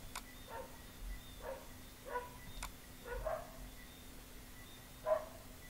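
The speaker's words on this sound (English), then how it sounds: "Welcome my neighbor dogs." Neighbouring dogs bark from a distance, a handful of short, faint barks spaced irregularly over several seconds against a quiet indoor background with a steady low hum.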